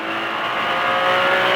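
A car on a race track braking and downshifting, a loud, continuous close engine roar that rises slightly in pitch toward the end.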